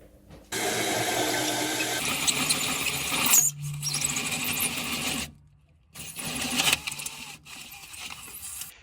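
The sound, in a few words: oscillating multi-tool cutting a hole in a van floor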